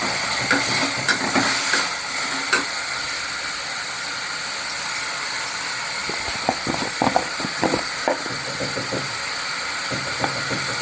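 Salted chutney ingredients sauté in a pan, giving a loud, unbroken sizzling hiss with a steady hum beneath it and a few light clinks toward the end.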